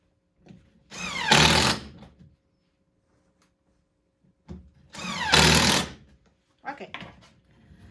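A power drill drives screws into a wooden shelf in two whirring bursts of about a second each, separated by quiet, with a few small clicks and a brief later rattle.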